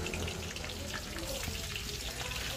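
Steady bubbling sizzle of batter-coated mushrooms frying in hot oil, close up and continuous, with a faint background murmur.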